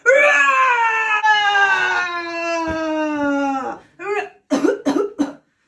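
A long, drawn-out vocal groan followed by a few short, harsh coughs in quick succession, close and fairly loud.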